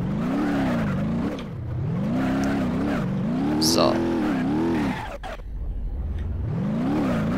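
A car engine in the BeamNG Drive driving game labors up a steep slope, its tone rising and falling with the revs and cutting off briefly before climbing again, loud and close while someone talks over it.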